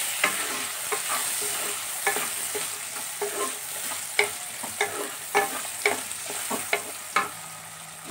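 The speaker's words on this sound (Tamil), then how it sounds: "வெங்காயத்தை நல்லா கொஞ்சம் வதக்குங்க." Turkey berries and onion sautéing in oil, a steady soft sizzle with repeated scraping strokes of a spatula stirring the pan at an uneven rhythm.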